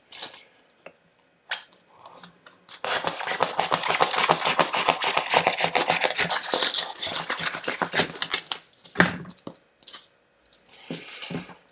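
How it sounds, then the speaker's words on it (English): A knife saws through styrofoam with dense, squeaky scraping strokes, close and rhythmic, preceded and followed by a few sparse taps and scrapes. "Just use a knife, a sharp knife."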